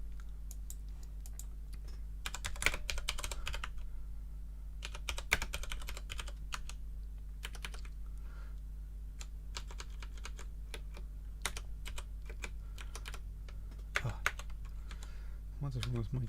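Typing on a computer keyboard during a programming lecture, with irregular bursts of quick, clicky keystrokes separated by pauses over a steady low hum, close and moderately quiet.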